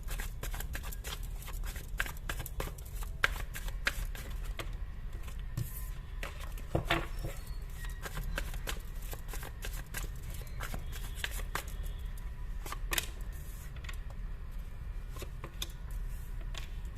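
Tarot cards are shuffled steadily by hand for a reading, producing a continuous close, soft flutter of riffling and slapping cards with occasional sharper snaps over a low background hum, with no talking.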